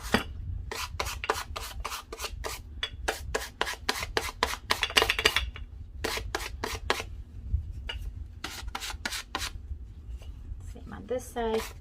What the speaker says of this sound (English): I'm literally just like letting the sandpaper just glide through.